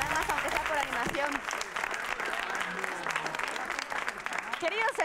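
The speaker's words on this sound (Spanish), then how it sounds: "Un aplauso a pesar de todo, ¿no?" A studio audience at a Spanish word game show applauds in a dense, steady wash of clapping that lasts the whole moment, with some faint vocal sounds mixed in.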